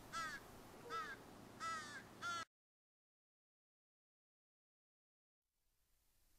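Crows cawing in a close, loud series of about four harsh calls, then silence with faint background rising at the end.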